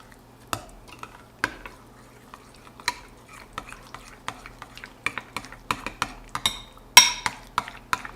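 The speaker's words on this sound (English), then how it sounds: "And we're going to stir this up." A spoon stirs potato salad dressing of vinegar, celery salt and garlic powder in a bowl, giving a quiet run of scraping clinks that quicken toward the end, with one brighter clink near the close.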